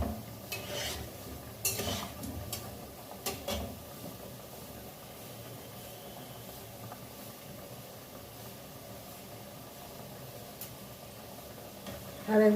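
Pantua sweets fry in a wok as a spoon stirs them with scattered scrapes and clinks over a soft, low sizzle, quieter and steadier through the middle with a louder knock at the end.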